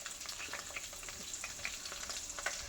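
Finely chopped onion frying in hot oil, giving a dense, steady sizzle with crackling pops throughout, close and fairly quiet.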